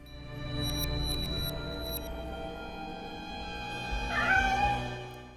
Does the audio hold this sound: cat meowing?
yes